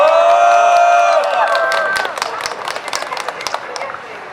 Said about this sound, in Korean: 우리 서정필님 큰 박수로 모시도록 하겠습니다